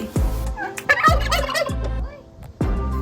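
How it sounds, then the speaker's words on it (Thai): A turkey-like fowl at a zoo in Yakutsk lets out loud, rapid gobbling calls, several bursts in a row, close by with no talking. "ไก่อะไรไม่รู้มันร้องเสียงแปลกมากเลย"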